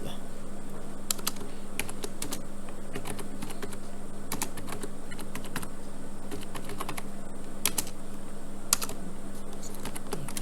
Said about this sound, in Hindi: तो मुझे कॉलम नेम देख देख के टाइप करना पड़ रहा है